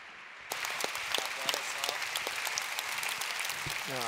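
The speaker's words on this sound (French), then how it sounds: "Je vous demande de l'applaudir, s'il vous plaît." A crowd breaks into steady applause that starts suddenly and continues evenly, with a voice briefly audible near the end.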